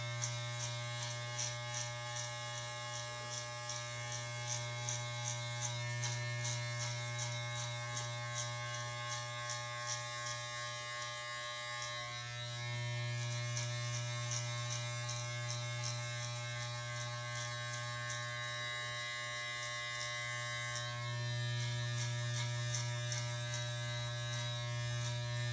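Electric hair clippers with a closed number 2 guard fading hair during a home haircut, a steady close-up motor buzz running throughout, dipping briefly in pitch as the blades press into hair, with no talking.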